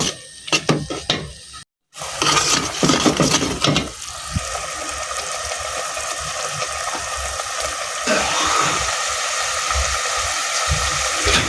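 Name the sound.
spices and hilsa fish being sautéed in a pan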